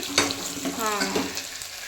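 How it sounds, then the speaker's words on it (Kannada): Moong dal sambar hits a hot tempering in the pan, bursting into a sharp, bright sizzle that crackles and hisses briefly. "ಹೆಸರು ಬೇಳೆ ಸಾಂಬಾರು ಮಾಡಿದ್ದೀನಿ ಅದನ್ನು ಒಗ್ಗರಣೆಗೆ ಹಾಕ್ತಾ ಇದ್ದೀನಿ"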